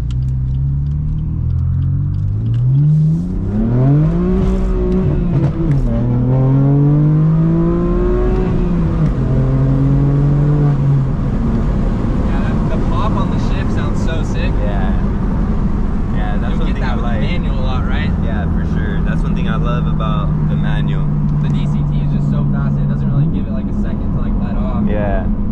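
Manual BMW M4 F82 engine pulling hard during a ride, its pitch climbing in rising sweeps through the gears before settling into a steady drone, loud and close, with people talking over it.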